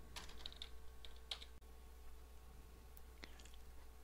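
Several bursts of quiet, close keystrokes as Java code is typed on a computer keyboard, with short pauses between bursts and a low steady hum underneath.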